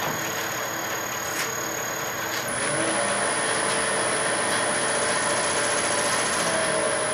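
Wood lathe spinning a hackberry bowl blank at 1000 RPM, a steady, loud whirring hum with slight vibration, its pitch shifting a little partway through.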